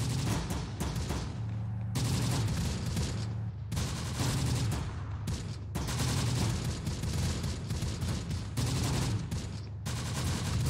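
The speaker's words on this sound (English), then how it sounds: "Wow, the mortars and artillery" Mortar and artillery fire in the video game Close Combat: The Bloody First, heard as bursts of dense rumbling explosions and gunfire in several waves with short lulls, fairly quiet and without speech.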